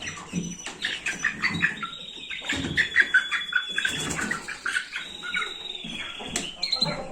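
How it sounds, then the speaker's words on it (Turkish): A small bird sings out in a series of bright chirps and short warbled phrases, fairly close, over a quiet background. "Ay maşallah kuşumuz ötüyor."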